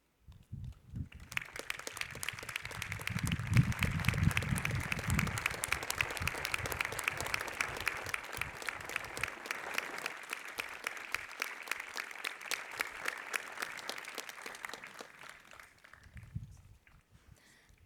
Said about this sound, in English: we give you the well-deserved round of applause for your service to our country